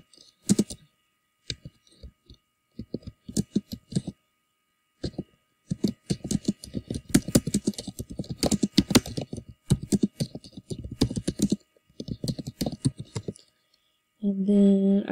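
Keystrokes on a computer keyboard while a word is typed into a document, coming in quick irregular bursts of clicks with short pauses, close and clear.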